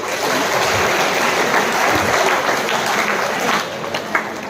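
Loud, dense applause from an audience at a college celebration of Anna's 117th birth anniversary, continuous across the whole stretch with no clear talk above it.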